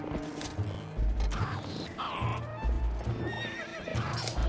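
Horse whinnies and neighs in the video game The Legend of Zelda: Twilight Princess, with hoof clip-clops and clattering effects, up close and loud.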